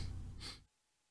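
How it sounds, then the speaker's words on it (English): A single short nasal sniffle, a quick breathy intake that stops abruptly, close and fairly loud. "We got the sniffles tonight."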